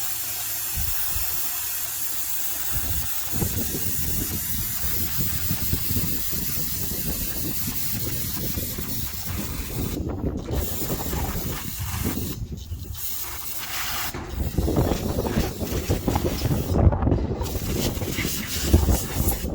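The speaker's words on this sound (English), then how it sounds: "we'll just spray down this with a little brake parts cleaner" Brake parts cleaner sprayed from an aerosol can onto a Stihl FS 131R trimmer under repair, a long steady hiss in bursts with brief pauses, close and fairly loud, with wind noise around it.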